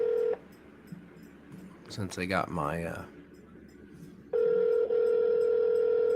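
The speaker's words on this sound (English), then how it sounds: "I'm on a phone call here that I've been waiting on" Telephone line tones are heard during a call: a steady electronic tone starts, cuts off, someone speaks briefly, and then a loud, steady line tone returns and holds to the end.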